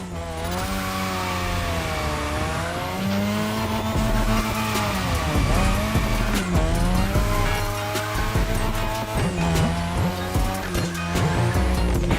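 Drifting car in The Crew Motorfest racing game, with steady engine drone and sustained tire squeal on a drift track, loud and continuous throughout, with swooping pitch shifts as the car slides.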